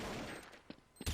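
Gunfire in a CSPromod competitive match, a few short bursts of shots over a dense game soundscape, with a louder burst at the end; no talk.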